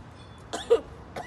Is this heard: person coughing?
yes